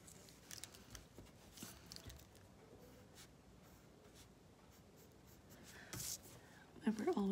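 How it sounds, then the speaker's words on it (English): Pencil drawing a double sink on a paper floor plan with a ruler: faint scratchy strokes and light taps, quiet and close, with a brief louder scrape near the end. "I'm just going to draw in my own sink"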